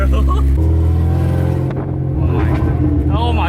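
Acura RSX running a Skunk2 Alpha open header, its engine droning loud and harsh with rough, crackling rasp and rising revs, a brief dip before the note climbs again.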